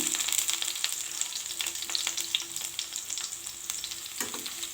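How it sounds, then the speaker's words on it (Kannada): About seven or eight crushed garlic cloves fry in hot oil for a potato fry, making a continuous bright sizzling hiss dotted with small crackles and spits, close and unbroken. "ಎಣ್ಣೆ ಕಾದ ನಂತರ ಒಂದು 7ರಿಂದ 8 ಬೆಳ್ಳುಳ್ಳಿ ಹೆಸಳನ್ನು ಜಜ್ಜಿ ಎಣ್ಣೆಯಲ್ಲಿ ಹಾಕ್ಬಿಡಿ"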